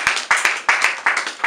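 A church congregation claps in bursts at a memorial tribute, several sharp rounds of hand claps close by, coming in short uneven waves without voices.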